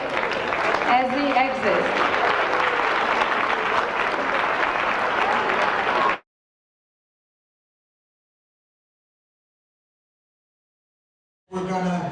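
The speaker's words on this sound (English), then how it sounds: "One more round of applause" Applause from the audience at a Hall of Fame induction ceremony rolls steadily for six seconds before cutting to silence, then a brief burst of clapping returns at the end while a voice speaks.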